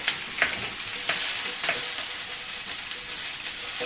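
Onions frying in a pan while being stirred: a steady close sizzle broken by a few sharp scraping stirs, with no voices.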